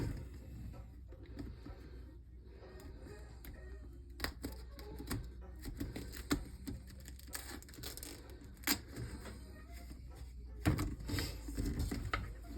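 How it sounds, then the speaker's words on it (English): Cutting a length of RV central vacuum hose, heard as a quiet series of irregular clicks, snaps and scraping clacks close by, growing busier toward the end. "What we're going to do here is we're just going to cut this off."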